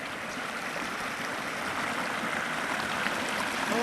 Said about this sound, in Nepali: यहाँ रहेछ हाम्रो सानो खोला